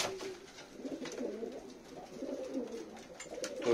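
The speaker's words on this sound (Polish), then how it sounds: "Gołąbki głodne, także idziemy zaraz karmić." Pigeons in an aviary coo in low, soft, continuous murmurs, fairly quiet and steady throughout with no talking.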